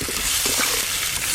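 Tomatoes frying in a pan with chili powder, turmeric and salt, giving a steady close hiss of sizzling oil with faint stirring scrapes throughout.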